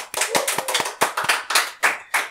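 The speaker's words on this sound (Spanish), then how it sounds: "un fuerte aplauso para Gale." Applause for a guest on a talk show, heard as a small group of sharp, distinct hand claps in an irregular rhythm, close and fairly loud, with no talk over it.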